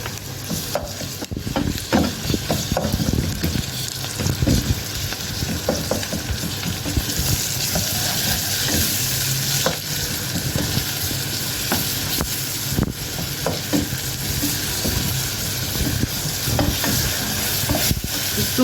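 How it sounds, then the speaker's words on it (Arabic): Onions and garlic sauté in oil in a pan, a continuous close sizzle broken by frequent stirring scrapes of a spoon, steady and loud throughout. "هنا البصل اهو دبلناه في الزيت، يدبل بس مش هيحمر"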